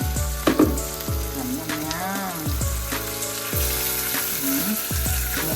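Beef and broccoli stir-frying in a hot pan, a steady loud sizzle with repeated scraping stirs and clanks of the utensil, no talking.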